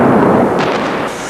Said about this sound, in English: Fireworks and a huge party on the Las Vegas Strip.